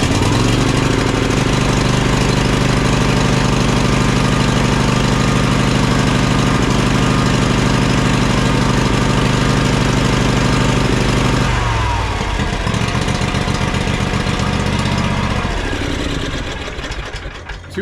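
A John Deere X300 riding mower engine, running rough and prone to surging and dying, roars at full throttle in a loud, steady drone close by. Near the end its tone shifts and becomes rougher.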